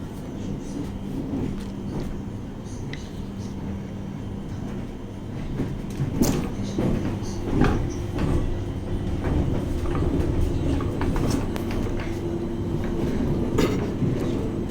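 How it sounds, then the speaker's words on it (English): Greater Anglia Class 321 electric train heard from inside the pantograph motor carriage, a steady low rumble and drone with scattered clicks and rattles of wheels over track joints, continuous and moderately loud. "This is one of the motor carriages on the 321s, the pantograph carriage"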